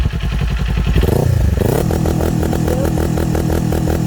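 A Kawasaki Z400/Ninja 400 motorcycle with two-step launch control is heard up close and loud, its engine held at a rapid, choppy popping rhythm that briefly dips and then climbs back into a steady stuttering drone.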